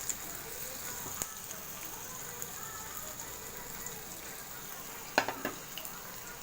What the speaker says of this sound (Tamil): இப்போ வந்துட்டு போட்டு பொரிச்சு எடுத்துடலாம்.